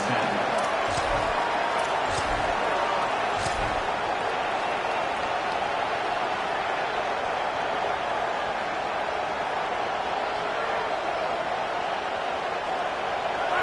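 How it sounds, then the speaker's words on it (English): Stadium crowd noise in the video game College Football 27, a dense steady roar from a packed football stadium, heard far off and continuous with a few faint thumps near the start and no talk over it. "This crowd ready to make its presence known."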